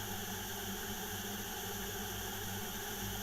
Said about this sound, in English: Notice it sounds like what it sounds like inside of an airplane.